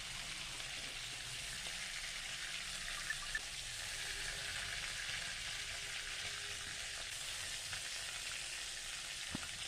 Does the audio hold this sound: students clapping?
no